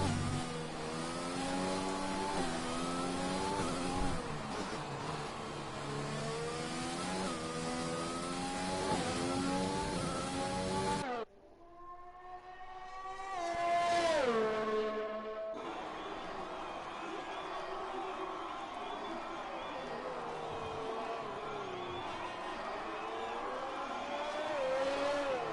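A race car engine revs and shifts through gears on an onboard lap in a racing video game, with a steady loud drone, a brief dip, then renewed acceleration, under faint crowd-like noise.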